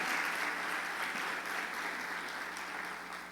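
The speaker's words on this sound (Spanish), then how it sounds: "Fuerte, fuerte aplauso" A church congregation applauds, a dense, steady wash of many hands clapping together at an even level throughout with no voices above it.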